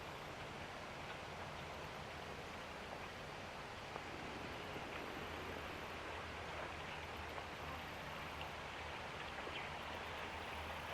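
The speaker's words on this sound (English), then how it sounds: "what is it about the sound of a rustling, whistling, whispering brook that is so peaceful and quiet?" A small brook near a footbridge in a garden park in September: steady broadband rushing and trickling water, continuous and fairly near, with no voices.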